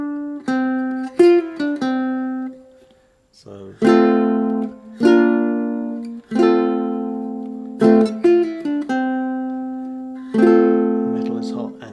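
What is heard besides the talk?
ukulele fingerstyle riff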